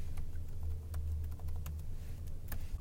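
Keys on a computer keyboard tap out an IP address in sparse, uneven clicks over a low steady hum.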